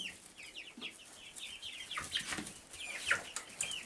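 Backyard chickens cluck in a steady busy stream of short calls, some wing movement mixed in, moderately close and fairly quiet with no voices.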